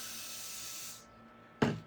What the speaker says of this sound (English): we're going to turn it over and we're going to do the same thing. Spray it with water